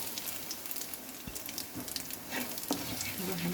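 Bay leaf with ground cumin, coriander, chili and turmeric sizzles in hot oil for a vegetable biryani, a steady crackling fry with a few soft clinks and stirring sounds.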